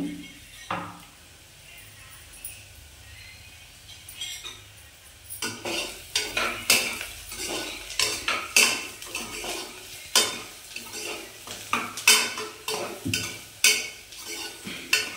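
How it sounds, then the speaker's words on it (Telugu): Onions frying and sizzling in a pan for a country chicken curry, stirred with a metal spoon that scrapes and clinks steadily against the pan, loud and close. Speech is heard faintly at moments. "ఈ ఆనియన్స్ ఫ్రై అయిన తర్వాత వేసుకోవాలి"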